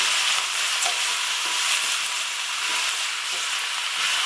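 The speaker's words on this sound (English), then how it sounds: "Give it all a good stir." A pot of vegetable stew with potatoes being stirred on low heat, a steady close sizzling bubble with soft periodic scraping strokes, alone without talk.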